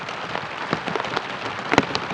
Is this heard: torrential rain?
yes